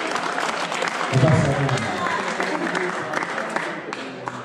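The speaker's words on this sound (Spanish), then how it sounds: "Fuerte el aplauso para la mamita Elsa." Guests at a 50th birthday party applaud mother Elsa, producing a dense, steady wash of clapping from a crowd while a voice speaks briefly over it.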